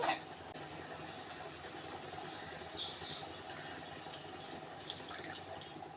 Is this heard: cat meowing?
no